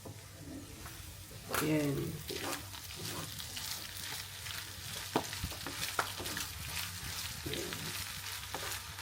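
Frozen sisig sizzling and crackling in a hot pan while being stirred, with scraping and clinks over a steady fry; a voice speaks briefly under the sizzle.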